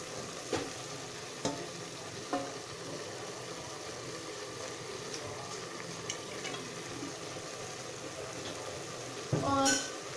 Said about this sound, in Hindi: और मीडियम टू हाई फ्लेम पर इसको भूनेंगे।